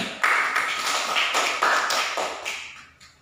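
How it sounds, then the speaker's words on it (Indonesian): A small classroom group claps for student presenters in a microteaching practice session, a short burst of close, uneven applause of several pairs of hands fading out after about three seconds. "Beri aplaus untuk kelompok 1."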